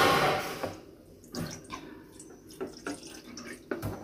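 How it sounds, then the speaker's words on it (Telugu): Water is poured into a bowl while making chocolate mousse at home, a brief splash followed by faint, scattered drips and small taps, fairly quiet. "ఈ బౌల్లోకి వాటర్ వేసుకుని ఉంచుకోవాలి"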